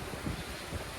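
Strong wind gusts buffet the microphone near the sea at a Pasacao rest house during a storm, a rough, continuous roar with low rumbling thumps.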